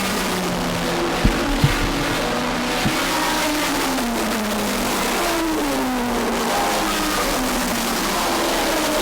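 Race cars lap a track with loud, close engines rising and falling through acceleration as one car passes another, with a few sharp knocks near the start.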